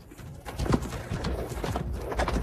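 Wings of a carrier pigeon flutter as it takes flight, a dense, rustling flapping burst heard close against a soft background noise.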